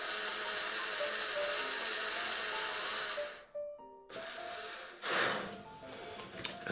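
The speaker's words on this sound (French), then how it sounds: "Il faut avoir un petit mixeur blender là" A small blender whirs as it blends fresh herbs for a green herb sauce, a loud, steady motor drone that stops abruptly, followed by short bursts of handling noise. No one speaks.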